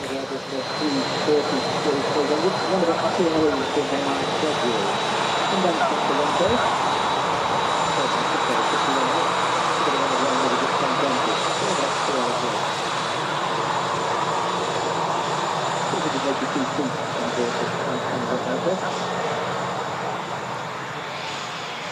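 Jumbo jet airliner landing at Manchester Airport, a loud continuous engine roar with a high whine that holds steady for over twenty seconds, heard from the ground with some spotter talk underneath.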